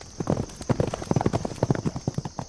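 Several horses gallop with fast, dense, overlapping hoofbeats as riders flee soldiers in a dramatized retelling of Paul Revere's ride, loud and close, over a faint steady high hiss.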